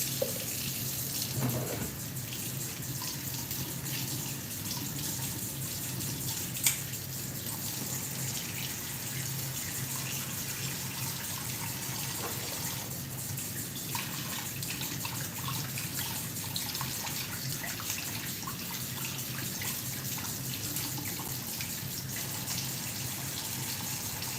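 A kitchen tap runs cool water into a pot holding potatoes and eggs, a steady continuous gush that lasts throughout, with faint clinks and small knocks from nearby work.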